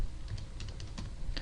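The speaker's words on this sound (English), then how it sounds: "I'm going to type" Quick, light keystrokes on a computer keyboard tap out a short run of irregular clicks at close range.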